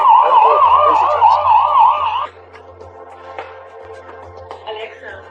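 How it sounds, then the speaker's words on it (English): An IMOU Ranger 2 home security camera blares a loud, wailing siren that sweeps up and down for about two seconds, then cuts off, leaving faint room sounds and soft clicks. "plays a loud siren to scare away unwelcome visitors."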